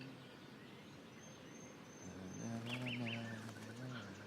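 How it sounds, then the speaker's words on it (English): Birds in the Life is Strange video game chirping and fluttering at a moderate distance, with a quick run of bright repeated tweets over a low ambient hum that swells partway through. "The birds are flocking around Samuel."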